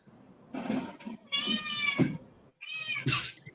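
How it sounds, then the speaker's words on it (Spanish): A cat meows several times in a row, loud and close, with drawn-out calls separated by short pauses in an otherwise quiet room. "El gato quiere hablar, quiere decir algo, no sabemos el qué"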